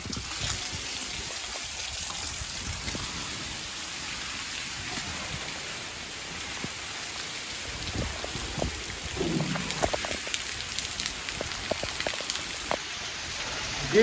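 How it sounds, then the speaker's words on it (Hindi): Heavy rain pours steadily in a constant, dense hiss with scattered drops and splashes. A few louder patters come near the end, and no voices are heard. "आज मौसम बड़ा वीआईपी प्यारा हो गया है, बारिश है तो बारिश में नहाना चाहिए।"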